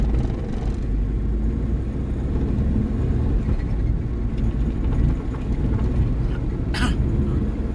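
Road traffic with cars on a street in Santa Maria, Bulacan, a steady low rumble of engines and passing vehicles that stays fairly constant, with a brief sharp sound near the end.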